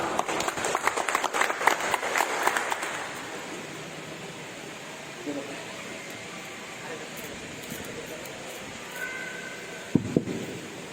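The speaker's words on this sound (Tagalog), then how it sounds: "Tagaan to sa masipang pakpak." An audience at a Bible study gathering claps for a speaker being introduced, a burst of applause that fades after a few seconds into quieter room noise.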